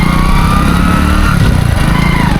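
A motorcycle engine pulls away and accelerates after the clutch is let out during a riding practice session. The steady engine drone is loud and continuous, and the pitch rises partway through.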